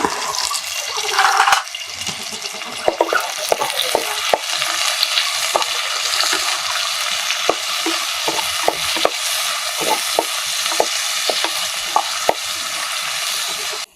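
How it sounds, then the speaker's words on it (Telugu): Onions and green chillies frying in a spoonful of oil, a steady close sizzle with repeated light scrapes and taps as a wooden spatula stirs the pan, no talk. "ఈ చెక్క గంటతోటే తిప్పుకుంటే మంచిది, బాగుంటుంది అన్నమాట"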